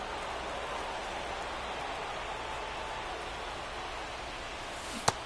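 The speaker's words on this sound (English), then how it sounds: "This rain is not letting up." Steady, dense rain hisses evenly through a Phillies vs Braves game in the MLB The Show baseball video game, with one sharp click near the end.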